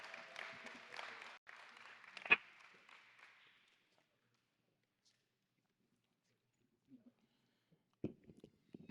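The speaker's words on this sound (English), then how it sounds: "Let's give them another round of applause." Applause from an audience for a panel at a Parent University event, a brief burst of clapping that fades out over about three seconds, followed by near silence and a few faint scattered noises.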